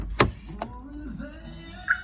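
A car's power door locks actuate with a sharp mechanical clack followed by a second softer thunk, then a faint electronic chime, close by in a quiet setting.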